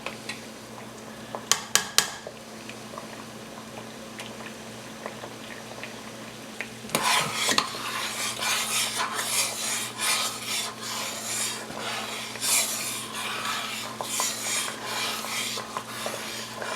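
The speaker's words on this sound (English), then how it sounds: "we got a really nice boil on right now" Raspberry and Saskatoon berry jam with sugar comes to a rolling boil in a pot, bubbling and popping in bursts after a few faint clinks, fairly quiet and close with no talking.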